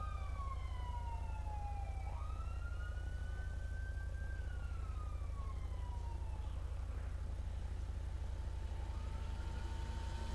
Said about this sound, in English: I heard some sirens.